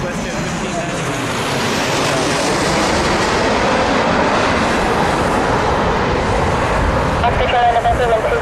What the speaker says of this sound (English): over our heads right now, 737 MAX, WestJet 1590